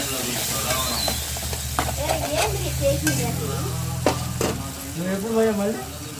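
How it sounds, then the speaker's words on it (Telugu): Thinly sliced potatoes hit a sizzling tomato curry in a pan, bringing a crackling hiss and stirring scrapes under a steady low hum, with a voice speaking faintly in places. "సన్నగా తరిగిన బంగాళదుంపలని కదా వేస్తుంది"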